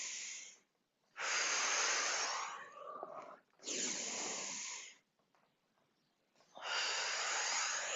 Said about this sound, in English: Sometimes it just feels good to breathe out of your mouth.